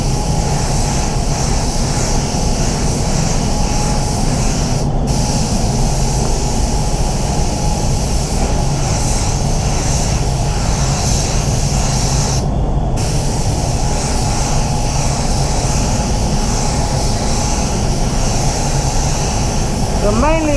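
A spray gun applies Toyota Corolla Barcelona Red paint, giving a continuous loud, steady hiss of air and atomised paint that holds unbroken throughout, with a couple of brief gaps.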